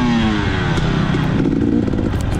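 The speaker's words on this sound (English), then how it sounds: "So I try revving it a little bit," Racing motorcycle engine revving hard on track during an amateur GP race, a loud close buzzing drone with shifting pitch and no talk over it.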